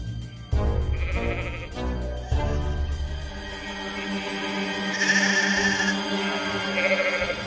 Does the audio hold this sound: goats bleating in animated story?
yes